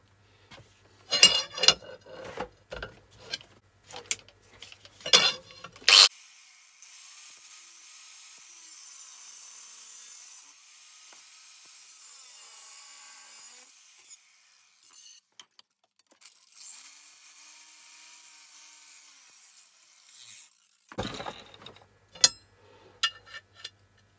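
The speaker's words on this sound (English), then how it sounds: "I'll do it with the grinder. Shape those bevels" An angle grinder shapes bevels on a metal workpiece with a long, steady, thin grinding hiss, bracketed by clattering handling noises and knocks before and after.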